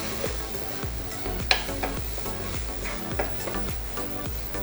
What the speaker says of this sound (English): Just give a good mix.